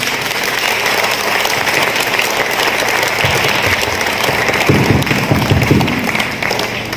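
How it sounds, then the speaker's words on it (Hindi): A theater crowd at a stage drama and award show gives loud, sustained applause for the cast, a thick wash of many hands clapping that swells slightly toward the end. "एक बार मेरे तमाम फनकारों के लिए जोरदार तालियां बजाएं"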